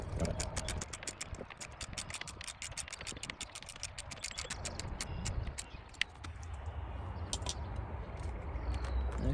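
Ratchet undoing the last screw of a Lexus LS400 mirror, rapid close clicking repeated in quick regular strokes throughout, fairly quiet.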